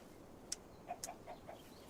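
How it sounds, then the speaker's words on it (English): A chicken in a Minecraft modpack game clucks in a few short, quiet calls, with no talk over it. "Where is that chicken? I can hear the chicken."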